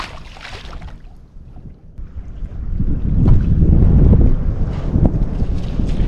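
Strong wind gusting over a lake at night during bass fishing, a loud roaring rush buffeting the microphone, building and staying heavy after a brief lull.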